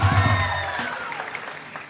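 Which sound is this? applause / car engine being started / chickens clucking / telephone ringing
applause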